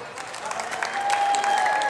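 An outdoor crowd at a charity walk for Alzheimer's in Muskegon applauds steadily, with dense clapping and faint whistles or cheers building slightly over the final second.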